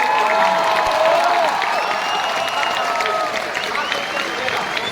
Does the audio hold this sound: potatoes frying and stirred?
no